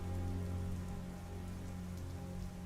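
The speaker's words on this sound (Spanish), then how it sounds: "donde la lluvia caía otra vez. Más fuerte. Más agresiva." Rain falls steadily in an even, hissing wash of drops on surfaces, constant throughout, with a low tonal hum underneath.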